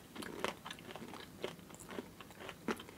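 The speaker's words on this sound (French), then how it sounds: "Là, ça croque." Crisp bites into a thick gourmet chocolate tablet from Nantes give several sharp, close crunching snaps, then softer chewing crackles between them, quiet and without talk.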